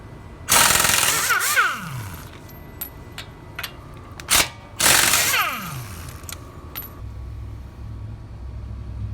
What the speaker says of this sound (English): Next step is you're going to remove your lug nuts and get the rim off.